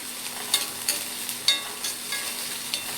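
Green turkey berries being fried and stirred in a pan, a steady soft sizzle broken by several light scraping clicks of stirring at irregular intervals, close and without speech.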